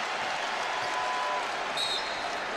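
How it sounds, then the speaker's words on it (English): Arena crowd at a Boston Celtics basketball game applauds Kevin Garnett, a steady broad wash of clapping and cheering that holds evenly throughout, with a faint whistle-like tone near the end. "Listen to the applause for Kevin Garnett"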